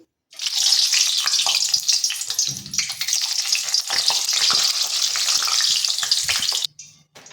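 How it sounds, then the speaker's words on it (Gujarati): Steady, loud sizzling of eggplant pieces frying in hot oil for undhiyu, a continuous crackle with occasional stirring clatter, cutting off abruptly near the end. "તો હવે આપણે અહીંયા બધા જ રીંગણને તળી લઈશું."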